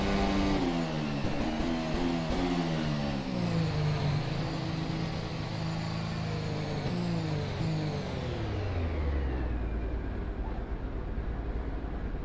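Zakspeed Formula racing car in rFactor 2 at Montreal, its engine loud and close, revving up through gears with rising and falling pitch sweeps, then dropping to a lower drone near the end.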